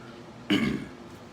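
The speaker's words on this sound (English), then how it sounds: "Let me clear my throat." A single short, gravelly throat clearing rises abruptly out of a quiet room and fades within half a second.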